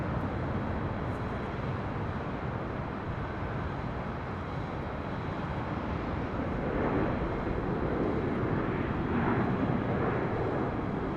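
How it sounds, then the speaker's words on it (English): Delta Airlines Airbus A321 jet on departure from LAX, heard from a high hotel rooftop as a steady broadband roar that swells slightly toward the end, with faint wind noise and no talk. "That is Delta Airlines Flight 816 heading to Austin, Texas in an A321."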